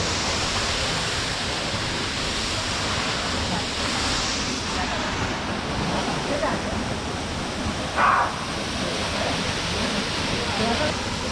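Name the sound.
Salto do Cabrito waterfall on São Miguel, Azores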